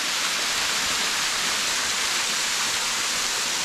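Steady roar of a waterfall in Tobago, a dense continuous rush of falling water, loud and close with no break.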